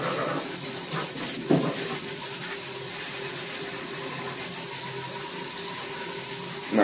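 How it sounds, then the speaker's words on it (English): Running water rinsing an evaporator coil and drain pan, a steady broadband hiss of spray that continues throughout at moderate level, with a couple of brief knocks. "My water's running cold now too."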